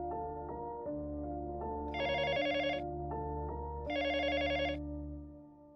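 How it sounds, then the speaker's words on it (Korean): A telephone rings at a hotel front desk, a tonal electronic melody followed by two loud bursts of rapid bell trilling, close and alone without voices. "프론트맨 역시 평소처럼 호텔로 걸려오는 전화를 받고 있었습니다."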